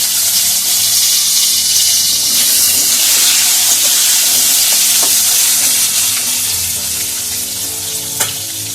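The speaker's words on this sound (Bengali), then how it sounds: "এইভাবে আমি সব কটা সবজিকে ভেজে নেব তেলের মধ্যে।" Mixed vegetables, including white potato dusted with turmeric, fry in oil for Bengali shukto curry, giving a steady, close sizzle with occasional stirring clinks and no talk.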